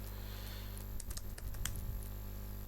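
Rapid clicking of keys on a computer keyboard as commands are typed into a terminal during a server setup, a short close burst of keystrokes over a steady low hum.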